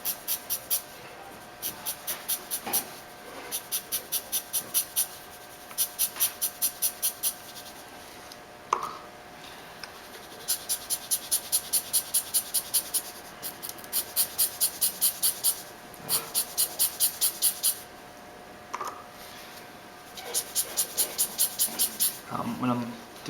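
A pen drawing thin, quick whipped lines on paper, in repeated rapid bursts of scratchy strokes with short pauses between them, close and fairly soft, with occasional light taps.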